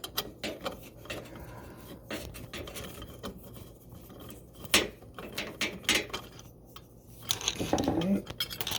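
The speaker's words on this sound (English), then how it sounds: "There's a little screw here, bolt that we're going to undo." A 5/16 ratchet clicks in quick, uneven bursts while undoing a small bolt on the inlet valve box of a GE Profile dishwasher, close up, with light metallic handling and occasional talk.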